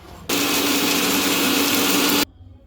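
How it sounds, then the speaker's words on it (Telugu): A kitchen mixer grinder whirs at full speed, grinding dried spices and salt into a spicy chennangi leaf powder. The loud, steady roar starts abruptly, runs unbroken for about two seconds, then cuts off cleanly into near silence, with no voices. "ఇది మిక్సీ ఒక ట్రిప్ ఇది మిక్సీ పడదాం"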